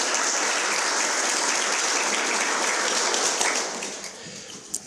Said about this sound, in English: Let's give another round of applause to President LaForge